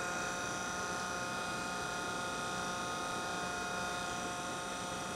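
A compressive strength testing machine runs with a constant mechanical hum and faint whining tones, steady and moderately quiet throughout, with no speech.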